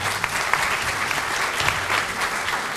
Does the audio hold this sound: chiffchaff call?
no